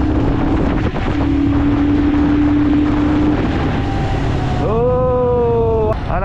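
A modified Royal Enfield Scram 411 motorcycle accelerates on a road, its engine drone rising in pitch through the gears under heavy, constant wind buffeting.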